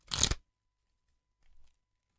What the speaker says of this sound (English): Is a final shuffle and cut.